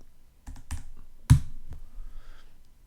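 A few sharp key taps as a Raspberry Pi password is entered on a computer keyboard, three or four separate clicks with one louder strike, close and alone in a quiet room.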